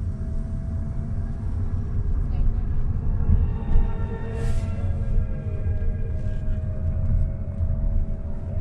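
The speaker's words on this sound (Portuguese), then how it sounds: "Quando você liga o carro e atinge a velocidade de 20, 21 km pela primeira vez, ele emite essa sinfonia de Torino" A 2022 Fiat 500e fully electric car emits its low-speed pedestrian warning tune while driving: steady, sustained tones over a constant low road and cabin rumble, with no talking.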